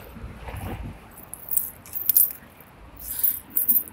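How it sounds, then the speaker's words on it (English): A bunch of keys jangles and clinks metallically as it falls to the floor, a few bright close rattles in quick bursts over a quiet room. "Uh-oh, I done dropped the keys."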